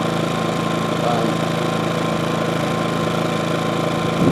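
A Harbor Freight Predator 2000 portable generator runs in eco mode, a steady, even engine drone with a constant hum that holds unchanged and close throughout, with a voice faintly present over it.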